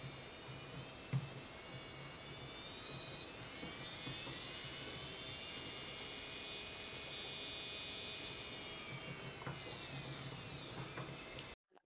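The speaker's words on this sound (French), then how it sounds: "je vous laisse écouter le bruit de la ponceuse" Electric nail sander handpiece spinning freely with no bit fitted, a steady high-pitched whine held for about ten seconds alone, rising slightly in pitch midway, with a faint low hum beneath.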